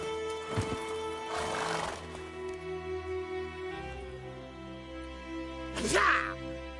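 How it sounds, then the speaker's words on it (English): A horse in The Witcher 3 gives two loud whinnies, one early and one near the end, with hoof clops and game ambience between them and a voice speaking briefly. "Whoa there, Roach."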